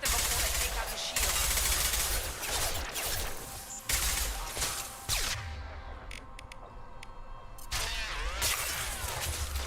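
Dense gunfire and weapon blasts from a firefight in Mass Effect Legendary Edition, loud and nearly continuous bursts broken by short pauses, with game dialogue speaking over the shooting.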